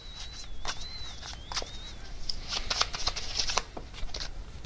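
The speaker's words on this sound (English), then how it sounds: "I'm just going to get one more card for any other advice on this connection." Oracle cards shuffled and drawn during a tarot-style reading: soft papery riffles and flicks in quick bursts, fairly close, with a faint high whistle-like tone early on and no talk.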